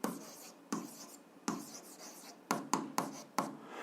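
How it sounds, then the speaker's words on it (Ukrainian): A pen writes on paper while an algebra exercise is worked out, with a series of short, quiet scratching strokes close by and brief pauses between them. "давайте запишемо"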